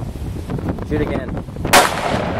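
One loud, close Ruger .40 caliber pistol shot cracks out near the end, a sharp single report after a brief stretch of quiet background.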